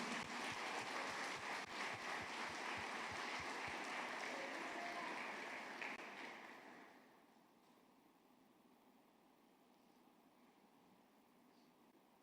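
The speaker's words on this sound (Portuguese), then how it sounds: "Ele não merece ser aplaudido?" A church congregation claps loudly for about six seconds, the dense applause fading to quiet near the seven-second mark.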